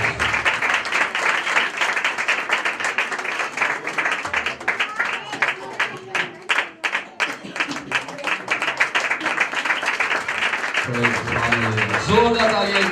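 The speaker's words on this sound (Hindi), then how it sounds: "जोरदार तालियां एक दफा हो गई।" An audience at a Christmas gathering claps for a guest being garlanded, with sustained, somewhat uneven clapping under talk, and speech becomes clearer near the end.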